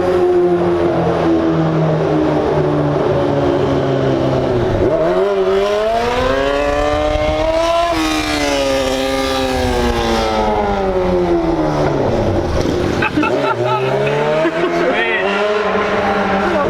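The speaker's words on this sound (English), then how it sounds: "This is a Lamborghini Urus." A Lamborghini Urus SUV's engine revs loudly and close by on a city street, its tone climbing and falling through several sweeping pulls with a steady, droning roar between them.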